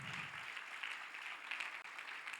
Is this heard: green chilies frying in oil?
no